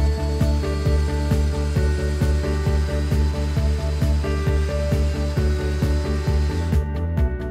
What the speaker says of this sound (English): I'm going to drill a hole for the power cord into the back piece